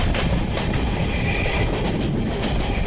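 Train running on rails in India: a loud, close, steady rumble of wheels on track with rhythmic clickety-clack over three seconds, no voices.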